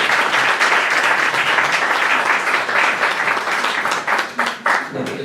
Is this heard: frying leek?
no